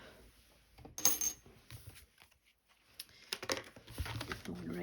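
Coins clink and drop in quick bursts as money is added to a 26-week savings challenge, close and fairly faint, with pauses and handling rustle between the clatters.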